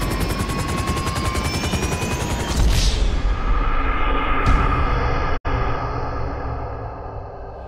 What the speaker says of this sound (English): That chopper's gonna be on us if we don't take him out!